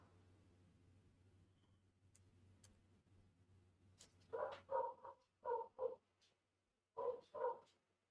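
A dog barks outside, somewhat distant, in a few sharp barks grouped in pairs after a quiet stretch with faint ticking.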